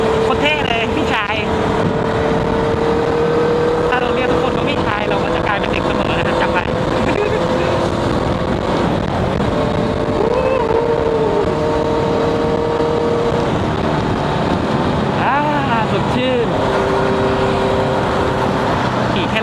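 A Honda CB650F motorcycle being ridden through town, its engine droning steadily and loudly with wind rush throughout and pitch rising as the throttle opens, while someone talks over it.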